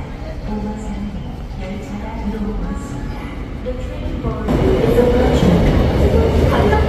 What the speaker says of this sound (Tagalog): Parating na yung tren.